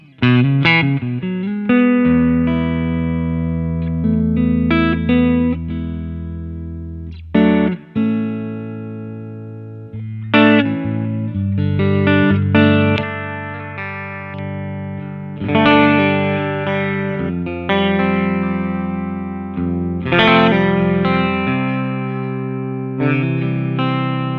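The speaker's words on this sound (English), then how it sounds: "Beautiful reverb." Electric guitar chords and single notes through an amplifier on a clean setting, each ringing out with lush reverb and long sustain, no voices.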